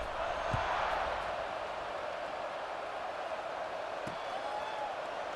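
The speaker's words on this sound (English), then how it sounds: "this crowd is buzzing after that last score" Steady stadium crowd buzz in College Football 26 during an LSU versus Vanderbilt game, a dense, even roar held at one level throughout, with a couple of sharp thuds on top and no talk over it.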